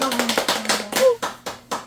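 Clapping at a children's Bible-reading session: about eight quick, sharp claps in a brisk rhythm, with a voice sounding faintly underneath.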